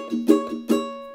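Ukulele strings pressed down hard and strummed, giving about four ringing, buzzy chord strokes in a quick, uneven rhythm, close and moderately loud with no talk.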